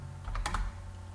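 A few quick, soft keystrokes on a computer keyboard while an SQL query is being entered, faint and close, clustered in a short burst.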